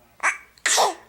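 A baby sneezes twice, a short small burst followed half a second later by a stronger, fuller sneeze, close by with no talking.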